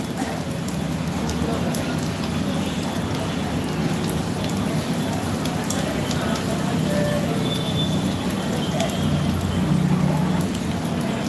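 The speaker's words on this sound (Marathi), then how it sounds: "पाऊस झाला चालू बघा" Steady rain falls in an outdoor street setting near a sugarcane juice stall, a dense continuous patter with people talking intermittently over it.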